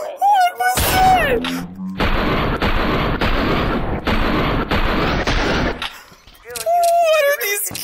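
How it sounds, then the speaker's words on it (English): A table explodes in the virtual reality game Hotel R'n'R VR as a burst of loud, rapid blasts that sound like gunfire, with excited talking before and after. "Did you see the table explode?"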